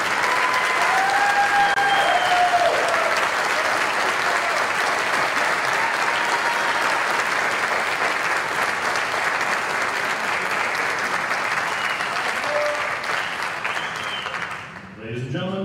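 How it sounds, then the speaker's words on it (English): Long, steady audience applause at an Army commissioning ceremony honoring a newly commissioned Second Lieutenant, dense clapping sustained for many seconds with faint voices mixed in, tapering near the end. "Please join me in a round of applause for our nation's newest Second Lieutenant"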